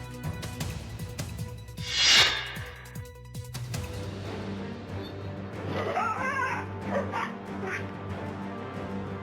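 Outside a house in the morning, a pet dog attacked by a leopard gives out frantic yelps, whimpers and barks that rise sharply, then fade into scattered whines over a continuous background din.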